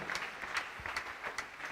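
An audience at a 92nd Founders' Day celebration in Accra claps continuously, a faint, distant patter of many hands with no talk over it.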